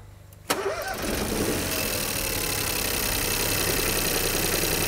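Downsized three-cylinder car engine cranks and catches with a sudden burst, then settles into a steady, rough idle close by, continuous and fairly loud with no talking over it.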